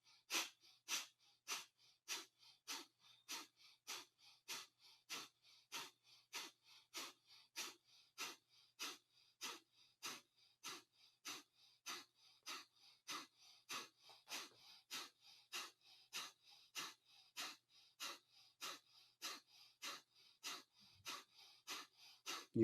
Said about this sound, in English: Now we're going to do 1 minute of breath of fire.